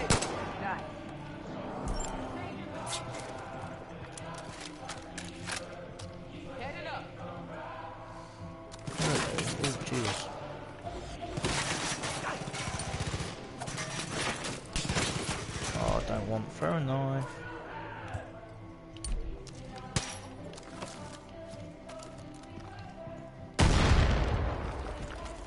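Repeated gunfire cracks and bursts in Far Cry 5, mixing single shots with rapid automatic volleys and a few heavier booms, some near and loud, others more distant, against a busy combat backdrop with talking in places.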